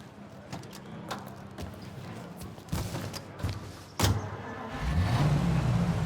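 A car drives in the video game Mafia Definitive Edition, its engine humming steadily with occasional thumps and a louder surge near the end.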